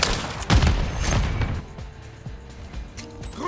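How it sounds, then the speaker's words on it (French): In Call of Duty Modern Warfare 3 a grenade explodes with a loud, deep boom early on, followed by scattered gunfire and rattling game mechanisms that fade out over a few seconds. "Grenade lancée."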